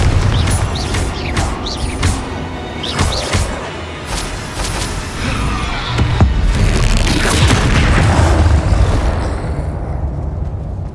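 A fire spell explosion in the game Hogwarts Legacy booms loudly with a crashing, rumbling burst amid ongoing game action, no talk.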